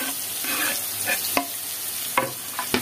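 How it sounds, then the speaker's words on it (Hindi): Finely chopped onions with fenugreek seeds frying in oil while being stirred, with a steady close sizzle and several sharp scrapes and clinks of the spoon against the pan. "अब हम इसको चलाएंगे अच्छे से और इसको हल्का ब्राउन होने तक इसको हम ऐसे ही भून लेंगे।"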